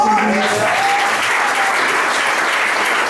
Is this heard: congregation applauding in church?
yes